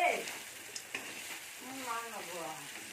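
Cumin seeds fry in hot oil with a soft, close sizzle and a few light crackles, while a voice talks quietly over it.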